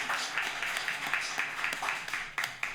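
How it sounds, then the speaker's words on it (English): A modest audience claps at a talk, a scattered patter of many hands with a loose rhythm of sharper peaks, moderately near and fairly quiet. "So clap one more time."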